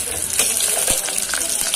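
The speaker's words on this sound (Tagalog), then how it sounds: "Lalagyan na natin siya ng tubig para palambutin." Water pouring from a container into a pot of browned pork pata with garlic for paksiw, a steady gushing splash close by with a few small knocks.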